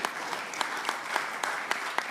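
Applause from an audience at a political declaration event in Indonesia, a steady wash of clapping with sharper accents at regular intervals, fairly even and moderately loud throughout, with no speech.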